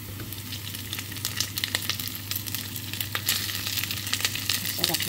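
Cooked rice hitting a hot pan for a Filipino breakfast, a steady close sizzle of frying with scattered crackles and pops over a low hum, no talking.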